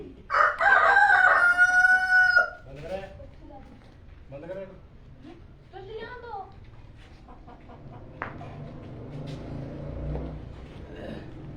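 A rooster crows loudly at the start of a rural scene, followed by several shorter crows and clucks from fowl, with people talking over them throughout.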